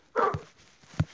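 A dog gives two short, close barks about three quarters of a second apart indoors, the first fuller and slightly yelping, the second a brief sharp yip.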